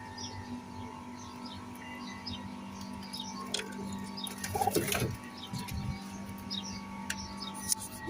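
High-flying Pakistani pigeons coo a few times, softly and close by, over a steady low hum, with some scattered ticks and bumps and faint chirping in the background.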